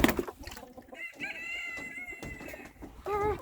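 Chickens on a muddy homestead cluck and call in short, nearby bursts, with one sustained higher squawk partway through and a louder burst near the end, over faint background noise.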